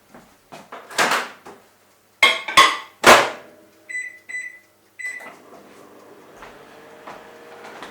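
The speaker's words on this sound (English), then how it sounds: "I've got to put the butter in the microwave for 20 seconds." A kitchen microwave oven is loaded and set to heat butter: a door opens and closes with knocks and clicks, a few high keypad beeps follow, and then a faint steady hum begins as it runs.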